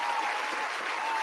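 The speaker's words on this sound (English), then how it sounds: "Round of applause for Malik Monk." A round of applause breaks out for an NBA player on a basketball podcast, with steady, dense clapping from a small group holding an even level throughout the short burst.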